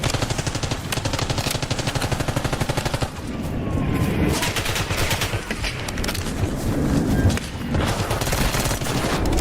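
Rapid automatic gunfire in Call of Duty Warzone, loud, close bursts of fast repeated shots with brief pauses, nearly continuous throughout.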